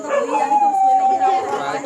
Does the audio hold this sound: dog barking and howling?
yes